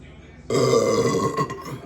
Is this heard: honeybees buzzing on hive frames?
no